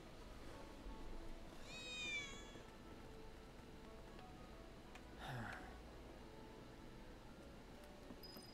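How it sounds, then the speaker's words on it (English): A cat in the Final Fantasy 7 Remake video game gives a clear, drawn-out meow, followed a few seconds later by a shorter, breathier cat sound, over a quiet ambient background. "Oh, I did hear the cat. That was definitely a cat."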